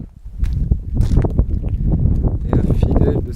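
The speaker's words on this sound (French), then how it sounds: "Des petits murets ont été mis certainement pour s'abriter du vent. Comme vous pouvez l'entendre, qui est assez fort en ce moment." Strong wind sweeps across the Piton de la Fournaise volcano near a small stone chapel with low sheltering walls, roaring in loud, continuous, rumbling gusts that buffet the microphone.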